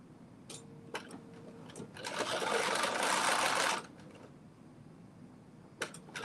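A sewing machine stitching dress facing pieces runs in one steady, fairly close burst of about two seconds, with faint ticks and clicks before and after.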